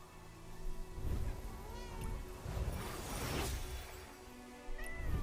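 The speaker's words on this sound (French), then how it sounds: "Does anyone understand what the cat wants?" A cat meows several times in a row, drawn-out and fairly close, over a faint background with a few soft knocks and clatters.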